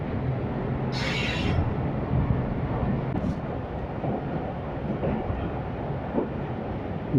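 The Khushhal Khan Khatak Express runs slowly along a long-disused railway track, giving a continuous close rumble of wheels and carriages with a brief higher hiss early on.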